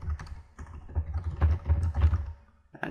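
Computer keyboard typing while an email is composed in Hotmail: close, quick keystroke clicks come in uneven bursts with short pauses and no voices.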